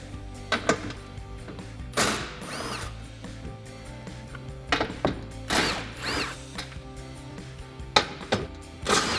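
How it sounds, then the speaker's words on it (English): A power tool with a 13mm socket backs out bolts on a Jeep Gladiator JT front bumper bracket. Short, close whirring and ratcheting bursts repeat at irregular intervals, with quieter clatter between them and no speech. "So now we can take a 13mm socket to remove our four 13mm bolts."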